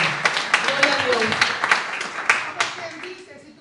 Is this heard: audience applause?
yes